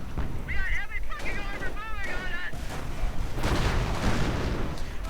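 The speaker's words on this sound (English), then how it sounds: "Germans are pounding our base." Artillery shelling a base in a World War II strategy video game, heard as dull booms and rumbling blasts over game sound effects, with a commentator talking over it.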